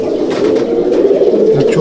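In a pigeon loft, a female Madrasi pigeon coos continuously and close up, with a low rolling warble. Faint rustling and a brief voice-like sound appear near the end.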